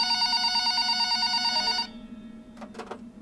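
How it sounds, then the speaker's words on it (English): A telephone on a store counter rings with a sustained electronic trill, clear and fairly close, then stops abruptly, followed by a couple of faint soft knocks. "About an hour later, the phone on the counter rang."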